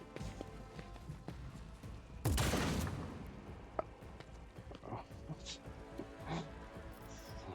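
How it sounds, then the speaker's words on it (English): Gunfire in the Rogue Trader video game, a dense burst of shots forming one loud crackling volley, followed by scattered softer impacts and effects, with someone talking over the game audio. "While we shoot this guy."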